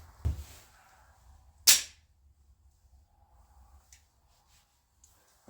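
A Kimber Crimson Carry II pistol fires a single sharp, loud report, with a fainter crack just before it and a quiet gap afterward as the slide fails to return to battery.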